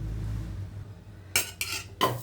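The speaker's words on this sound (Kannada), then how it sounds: "ಇದು ಬಾಣಲೆ ಇಡ್ತೀನಿ" A frying pan is set down on a kitchen stove while cooking palak chicken gravy: a low hum, then three sharp metallic clanks in quick succession.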